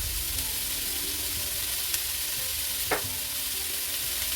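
Onions dropped into a hot frying pan hiss and sizzle steadily, a loud, even crackle with a couple of brief sharper spits.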